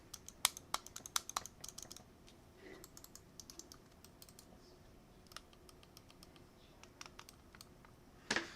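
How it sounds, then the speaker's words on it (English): A Corsair FPS gaming mouse with Omron switches clicks repeatedly up close, sharp crisp taps in quick irregular bursts separated by short quiet pauses in a quiet room. "they use the high capacity Omron switches, which I'll let you guys hear that now"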